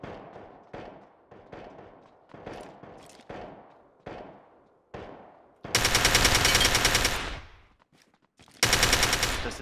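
Video game gunfire: a run of single sharp shots spaced out, then two long dense bursts of rapid automatic fire, loud and close, with no talk.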